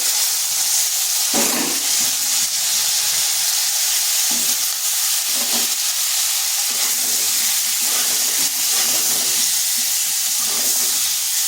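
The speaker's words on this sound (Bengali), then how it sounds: "ওই তেলের মধ্যে দিয়ে দিচ্ছি ফুলকপিগুলো।" Cauliflower florets drop into hot oil and fry with a steady, close sizzle and hiss, and a few louder crackles burst through as the pieces settle in the pan.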